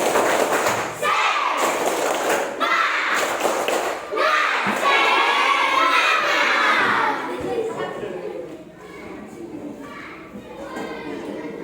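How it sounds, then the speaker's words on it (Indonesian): Children in a classroom do a clapping chant together. They clap and shout in rhythmic bursts, with thumps and lively young voices, and the sound trails off into lighter chatter near the end. "Ayo, tepuk semangat."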